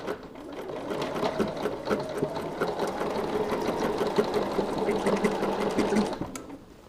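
A sewing machine stitches steadily through fabric along a quilting template for a folk heart chain, a continuous close mechanical whir with rapid needle ticks running for several seconds before stopping abruptly.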